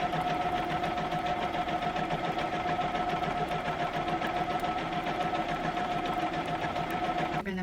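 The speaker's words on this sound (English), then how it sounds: "I'm doing a 1/2 inch stay stitch." Sewing machine running a 1/2 inch stay stitch on a sage green dress: a steady, fast, even mechanical hum and whir that goes on without pause, close and moderately quiet, with no talking.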